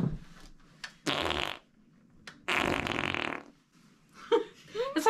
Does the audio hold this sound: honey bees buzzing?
no